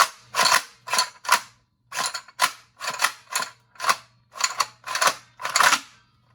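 A BREACHER prototype toy blaster fires repeatedly, about a dozen sharp mechanical snaps and clacks in an uneven rhythm, close and loud with a faint hum underneath and no talk.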